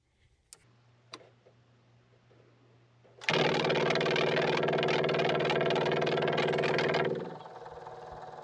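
Onan RV generator fuel pump switched on by the prime button: a few faint clicks, then a sudden loud steady buzzing whir holding for several seconds before dropping to a quieter hum.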